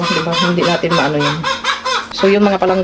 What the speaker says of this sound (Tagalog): Pasensya na kayo sa manok na maingay kasi mangingitlog yan.